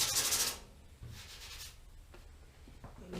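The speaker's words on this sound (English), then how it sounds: "Scuff it up where I need it painted." A Datsun 280Z body panel is scuffed by hand ahead of painting outdoors without a booth, giving rough, close rasping strokes in a few uneven bursts with no talking.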